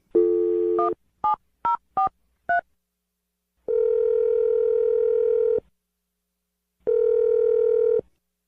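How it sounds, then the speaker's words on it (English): A steady dial tone, then a quick series of keypad tones, followed by two long ringback tones separated by silence. "I'm dialing the phone number right now."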